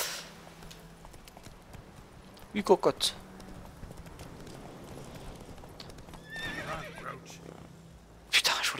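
Horse hooves clip-clop and a whinny ring out in The Witcher 3 as the player's mount is summoned, with brief neighs and galloping bursts around the middle and near the end, while someone talks over the game sounds.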